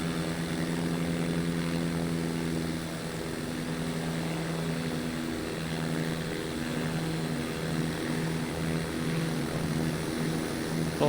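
The XF14D aircraft engine in a video game holds a loud, steady propeller drone during the takeoff roll, with layered humming tones that waver slightly in pitch throughout.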